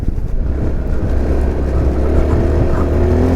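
A 2023 Honda ADV350 scooter ridden off-road, its engine droning steadily under loud rumbling and wind buffeting, close and continuous with no speech.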